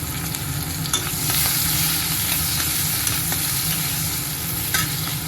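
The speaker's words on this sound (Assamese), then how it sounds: "এইখিনি তেলতে পিঁয়াজ দিছোঁ। পিঁয়াজখিনি ভাজি ল'ম।" Onions sizzle steadily in hot oil, a dense crackling hiss close up, with occasional scrapes and clicks of stirring and no voices.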